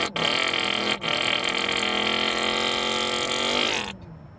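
A voice mimics a stock car engine, a sustained buzzing, revving drone with harmonics held for nearly four seconds after two brief breaths, loud and close, then cutting off abruptly into quiet.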